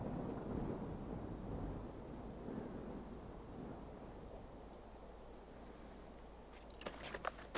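Thunder rolls through a stormy scene in the survival video game SCUM, a steady low rumble sustained across the clip, with a sharper crackling burst near the end.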